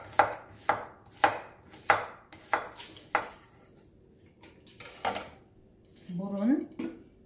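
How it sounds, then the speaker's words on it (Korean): A knife slices radish on a cutting board for kimchi stew broth, the cuts landing as a steady run of six or seven sharp, close knocks, then a few louder separate strikes. "무는 빨리 우러나게 슬라이스 썰어서 넣을게요"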